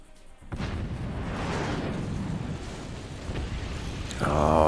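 Howitzer artillery in a video game fires with a heavy booming blast after a brief quiet start, the rumble lingering, then a second loud burst arrives near the end.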